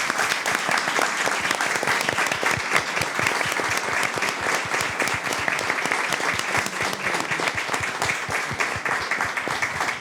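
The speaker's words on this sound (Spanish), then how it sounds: "dadles un tremendo aplauso" Audience at a comics round table in Spain giving the panelists a long, loud, sustained ovation, dense rapid clapping filling the room without a break for about ten seconds.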